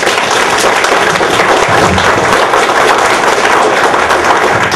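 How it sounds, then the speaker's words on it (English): A crowd at a political event claps loudly and densely for two Republican magistrate candidates, a steady, sustained roar of applause with no voices. "Let's give them a round of applause."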